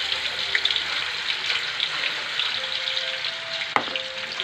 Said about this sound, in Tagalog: Papainit na kasi itong mantika.